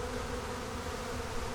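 Bees hum low and steady around a honey frame lifted from a hive, a continuous close buzzing with no break and no voices.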